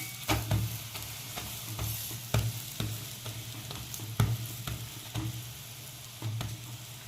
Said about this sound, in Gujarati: હું હમણાં તેલ લઉં છું. આવી રીતે બંને સાઈડે સરસ શેકી લેવાનું.